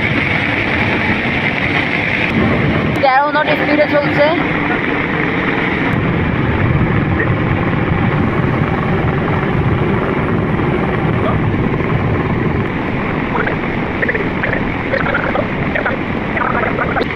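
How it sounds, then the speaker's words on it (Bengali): Heavy engine of the Tarango 7 passenger launch drones steadily as it runs at speed alongside another launch, a loud continuous rumble with water wash, and someone talks over it throughout. "তরঙ্গ 7-এর ইঞ্জিনের পাওয়ারগুলো অনেক বেশি"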